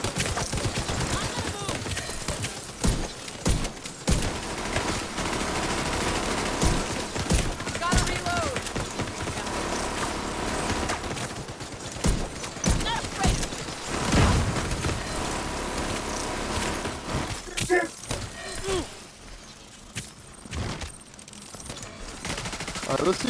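Gunfire in the video game The Division 2, dense rapid automatic bursts and shots almost continuously for over twenty seconds, loud and close, with a voice talking at times underneath.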